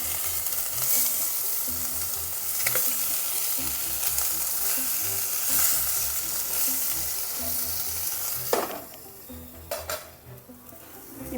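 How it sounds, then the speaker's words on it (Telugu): Chicken pieces for chicken mandi fry and roast in a pan with a steady, dense sizzle, joined near the end by a few scraping clanks of a utensil turning the pieces. "ఈ ముక్కలు కూడా ఫ్రై అయిపోవాలి, మంచిగా ఫ్రై అయిపోయినాయి కదా."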